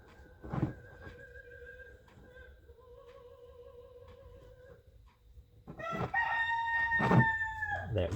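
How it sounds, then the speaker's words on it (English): A rooster crows twice, the first call thin and distant, the second louder and closer, with clucking and a sharp thump between. "That rooster you probably hear in the background is my new enemy."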